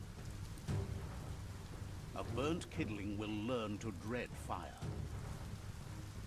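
Steady rain and rumbling thunder from the video game Biomutant run throughout, with a narrator speaking over the storm noise.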